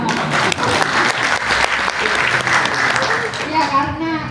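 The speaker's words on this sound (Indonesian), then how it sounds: "Tepuk tangan buat sekolah alam." An audience applauds a nature school, a dense, loud burst of clapping that runs steadily throughout, with a few children's voices mixed in.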